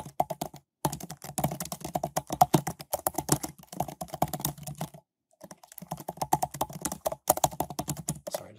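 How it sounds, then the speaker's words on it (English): Fast, steady typing on a computer keyboard, close and fairly loud, a continuous patter of key clicks broken by a couple of short pauses, with no voice over it. "Sorry, just typing that in there."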